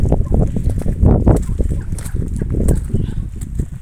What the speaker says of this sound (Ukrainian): Ось такі от наші от індики.